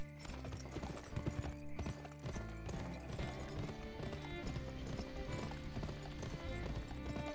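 Horse hooves clip-clop steadily in a western video game as the horse is ridden, with a quick regular rhythm over music and ambient game sound, fairly close, no speech.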